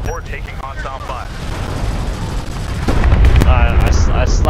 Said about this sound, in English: We're taking hostile fire.